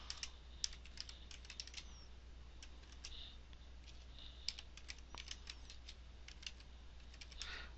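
Keys clatter on a computer keyboard in quick irregular bursts as keywords are entered, close and fairly quiet over a steady low hum.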